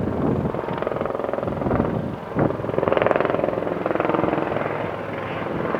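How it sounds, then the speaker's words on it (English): A medevac helicopter passing overhead, its steady rotor chop and turbine roar loud and continuous, swelling slightly as it comes closest, with wind buffeting the microphone. "and here comes a helicopter."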